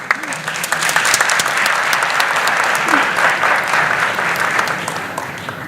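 Audience applause at a school science and maths quiz competition semi-final, sustained and fairly loud, a full crowd clapping steadily from start to finish.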